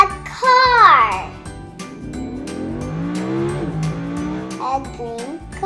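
A cartoonish toy car sound effect opens with a quick squealing, revving burst, then settles into a bright, bouncy engine-like hum, loud and close, over a light musical backing.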